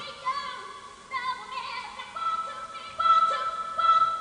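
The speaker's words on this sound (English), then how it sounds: "We can take this sample and higher the pitch" Dance music sample played back with its pitch raised, thin high-pitched melodic chirps and stabs in short phrases, fairly quiet and heard alone.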